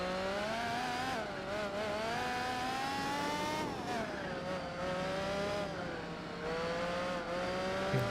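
Race car engines roar in Gran Turismo 4, with a C9 and a BMW on track, a loud continuous drone whose pitch climbs and dips through gear changes and throttle shifts, with no talking.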